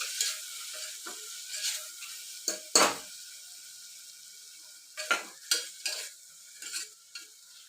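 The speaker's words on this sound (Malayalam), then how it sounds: "കുറച്ച് നേരം നല്ലവണ്ണം ഇളക്കി മൂപ്പിച്ച് എടുക്കണം." Potato and carrot pieces for vegetable biryani being stirred in a pan, with a series of distinct scraping and clinking strokes of a spoon against metal over a faint frying hiss, near and unhurried, no speech.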